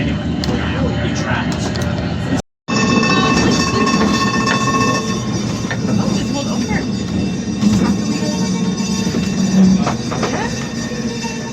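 A steam train on the Isle of Man railway rumbles steadily, with rail clatter and a brief dropout early on, heard from on board with people talking nearby.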